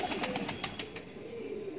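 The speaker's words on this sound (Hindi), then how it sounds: "रामपुरी कबूतर" Rampuri pigeons coo in a steady, close run of soft repeated calls, with a low murmur of more birds beneath.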